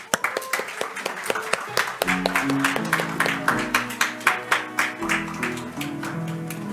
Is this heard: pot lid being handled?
no